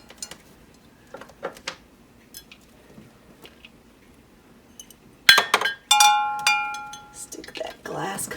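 Vintage amber glass toothpick holders clink against each other and the wooden hutch shelf as they are set down, a few sharp ringing chimes after quieter handling and faint muffled speech.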